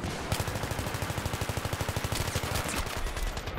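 Rapid, rhythmic automatic gunfire in the video game Battlefield 3 rattles out in a steady burst of evenly spaced shots, loud and close throughout.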